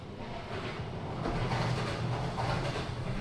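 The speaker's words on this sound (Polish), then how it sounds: "Pociąg przejechał." A passing train gives a steady, broad rumble and rattle that swells slightly around the midpoint and holds at a moderate, fairly close level, with no voices.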